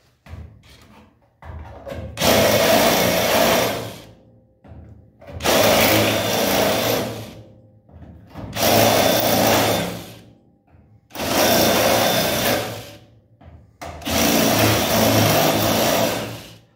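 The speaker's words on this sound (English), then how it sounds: "you're seeing me there going with the drill bit. What I'm doing, I'm cleaning out the metal that I painted on the back side" A drill bit grinds painted metal from the back side of a large body panel being prepped for welding, running in five loud, close bursts of about two seconds each with brief quiet gaps between.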